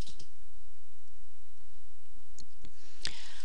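A few crisp, isolated mouse clicks sound close up against a low steady hum, with the sharpest click near the end.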